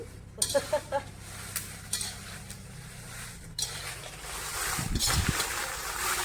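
Dry-roasting Byadgi red chillies in a pan, batch of about one and a half kilos, with scraping and stirring clatter, a few sharp metallic knocks early on and a soft rising sizzle-like rustle toward the end.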